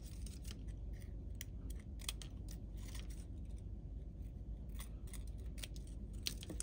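Scissors snipping paper flower scraps, a quiet series of crisp, irregular cuts close by over low background noise.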